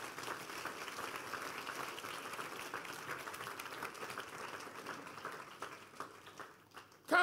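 A church congregation at the Back to Sender Conference claps for Jesus, a fairly quiet, steady wash of many hands that thins out and breaks up near the end, followed by a sharp louder burst.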